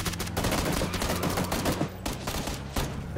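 Rapid gunfire in the video game PUBG, a dense sustained fusillade of shots with a brief break near the end, loud and continuous throughout with no talking.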